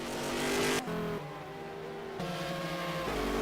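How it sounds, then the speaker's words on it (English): A race car engine in a racing video game, an American Le Mans Series round at Silverstone, revs hard and loud, its pitch dropping and climbing through gear shifts, with steady engine drone throughout. "That engine sounds so cool though."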